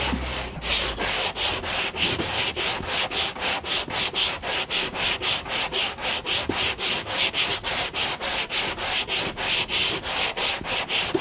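A car bumper is hand-sanded with 220 and then 400 grit sandpaper in fast, steady back-and-forth strokes, about three per second, loud, close and rhythmic throughout.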